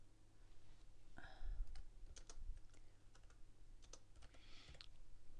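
Someone types a blog post on a computer keyboard, giving a quick, uneven run of soft clicks and key taps. The clicks sit close against a low room hum, with no talking.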